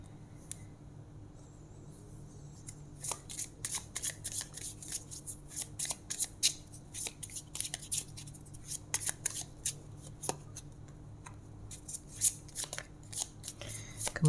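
Tarot cards are shuffled up close, with quick crisp riffles and slaps in uneven bursts over a quiet, faintly humming room.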